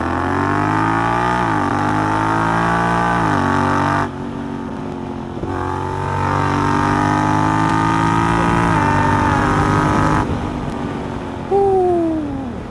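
A 2019 Honda X-ADV 750 fitted with an R9 exhaust, heard on the move as the engine climbs through the revs and drops at each gear change, loud and close, with wind noise and several distinct upshifts.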